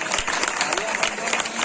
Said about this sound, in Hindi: आप सभी की तालियां।